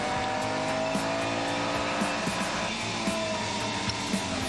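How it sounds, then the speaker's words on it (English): A V12 historic race car at the Monterey Historic Automobile Races at Laguna Seca holds a loud, dense engine roar throughout, with faint tire squeal and no voices. "fabulous sound from that V12"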